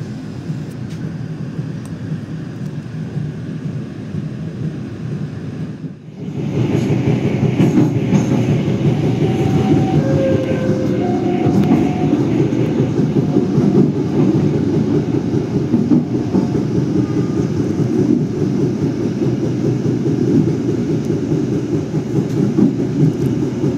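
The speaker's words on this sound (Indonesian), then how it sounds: "Pukul 5:55 kereta api Madiun Jaya berangkat dari stasiun" Madiun Jaya passenger train departing Magetan station, a steady loud rumble of wheels and carriages rolling continuously, with brief faint squeals over the running noise and no talking.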